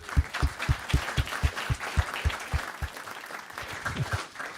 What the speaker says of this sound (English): I'd like to give all of you a round of applause for everything you do to make us whole.